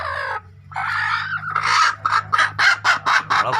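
A hen known for pecking hard, at a laying spot in Chavara, Kollam, gives a few drawn-out nasal calls, then a rapid, evenly spaced run of loud clucks close by.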